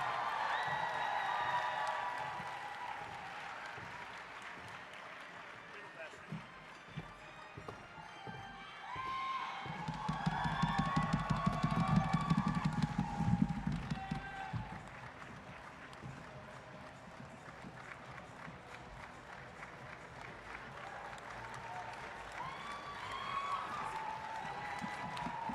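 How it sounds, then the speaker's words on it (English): A distant crowd applauds and cheers at a cosplay championship, the sound swelling to a faint roar midway as contestants head to the stage and then settling into quiet murmur. "A big round of applause for them as they head to the stage."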